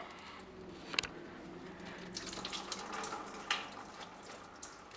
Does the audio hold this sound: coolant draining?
yes